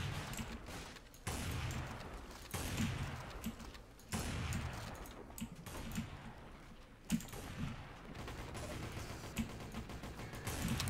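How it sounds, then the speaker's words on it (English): SMG gunfire in a Garry's Mod zombie outbreak. Rapid bursts of clattering shots come in several volleys, each separated by short pauses, heard at a moderate distance with no speech over them. "Someone's got an SMG."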